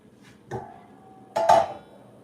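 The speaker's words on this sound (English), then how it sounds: "give it a good stir, the greens" Greens being stirred in a cooking pot, heard as two short clanks of utensil against pot, the second louder and ringing briefly, close and with no voices.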